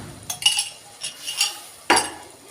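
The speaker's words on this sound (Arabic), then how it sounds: "نديهم بقى تقليبه كده" A spoon stirs rice and chicken wings for an Egyptian-style kabsa in a cooking pot, giving a few scattered metallic clinks and scrapes against the pot, fairly close and soft, with no voices.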